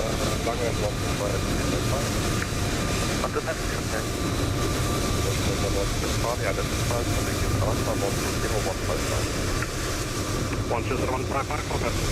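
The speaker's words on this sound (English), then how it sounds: "can we just acknowledge another funky aircraft, Qantas and the 737" A Qantas Boeing 737 in Microsoft Flight Simulator 2020, a steady, loud jet engine roar with a dense broadband rumble that holds constant throughout.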